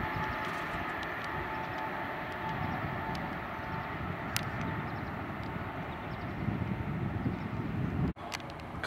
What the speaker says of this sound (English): I think we might have another train coming